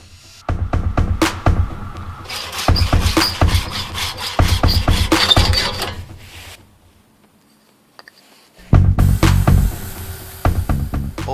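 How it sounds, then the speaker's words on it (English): Hand sawing through wenge wood knife handle scales in a workshop, a loud rasping back-and-forth stroke rhythm in three bursts, a brief pause, then sawing resumes, close and alone without talk. "I'm sawing off handle scales made from wenge wood."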